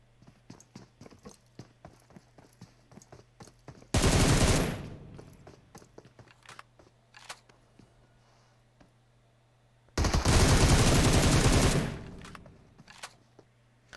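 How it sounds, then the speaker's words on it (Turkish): Automatic gunfire in the PUBG Mobile battle royale game: two long, loud sustained bursts, each about two seconds, over a steady hum and scattered lighter clicks and taps. "40 mermi sıktım yani."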